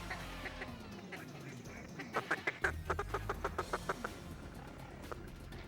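Ducks quack during a Missouri duck hunt, a rapid run of about a dozen evenly spaced quacks rising out of steady wind and background noise, moderately distant.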